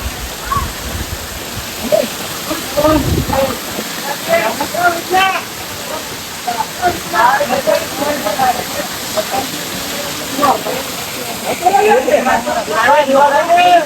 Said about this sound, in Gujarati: તો મિત્રો હાલ જોઈ રહ્યા છો ધોધને મિત્રો